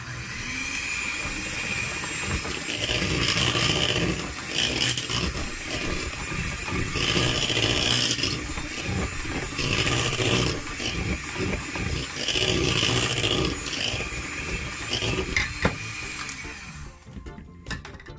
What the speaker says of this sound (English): you wanna just give this a little quick mix